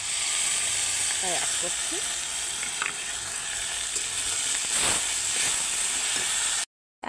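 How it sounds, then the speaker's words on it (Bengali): Ginger, cumin and green chili paste frying with spices in a pan, a steady close sizzle and hiss throughout with occasional stirring scrapes, while a voice speaks briefly over it. "বেশ সুন্দর করে একটু নেড়ে নেড়ে মশলাগুলো একটু মিক্স করবো, একটু ভেজে রেখে দেবো।"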